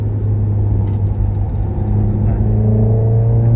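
A car on street coilovers is pushed hard into a corner, its engine giving a loud, steady, close drone that rises in pitch toward the end.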